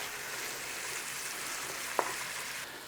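Onions cooking down in a pan for a corned beef curry, giving a steady, even sizzle throughout with one brief sharp tick near the end, no voices.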